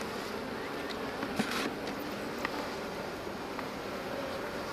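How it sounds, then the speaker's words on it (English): Honeybees in an opened, half-full hive with frames exposed hum as a steady, dense drone throughout, with faint brief knocks and outdoor wind-like noise mixed in. "You'll hear the tone of the bees get a bit higher when they get a little bit angry."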